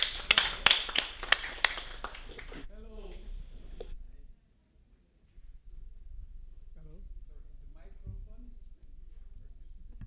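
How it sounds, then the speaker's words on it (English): Audience applause at a diaspora homecoming convention opening session, greeting a speaker: a few seconds of fairly loud, scattered clapping that cuts off abruptly, followed by a brief pause and then someone talking. "Give him a round of applause."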